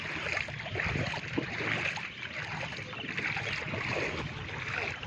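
Someone wades across lingering village floodwater, the water churning and sloshing in a continuous, close wash of movement with faint wind in the background and no talking.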